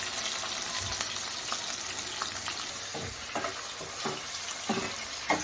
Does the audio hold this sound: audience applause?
no